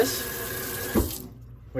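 A kitchen faucet pours a steady, close rush of water that cuts off sharply near the end as the tap is turned off, leaving near silence.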